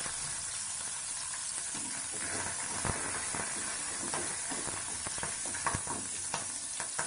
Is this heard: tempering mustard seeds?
yes